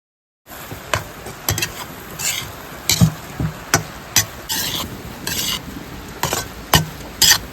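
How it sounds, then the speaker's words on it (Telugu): Egg fried rice with cabbage and coriander being stirred in a pan outdoors in the rain, repeated scraping and rasping strokes of a spatula in an irregular rhythm over a soft sizzle, close and clear. "వేసుకున్న తర్వాత నీట్గా మళ్ళీ మనం కలుపుకోవాలి."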